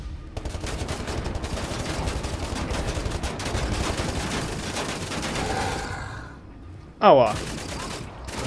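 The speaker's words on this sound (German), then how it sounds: "Oh Mann, wir haben sie wieder beide leer geballert." Dense, continuous gunfire from the video game Wolfenstein: The New Order, loud and sustained for several seconds with rapid overlapping shots, then a brief pause and a sharp burst near the end, with a short pained voice.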